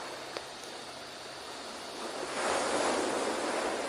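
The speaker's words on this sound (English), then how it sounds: "waves flowing in" Ocean surf washes in with a steady, soft hiss that swells louder toward the end as a wave rolls in, alone with no voices.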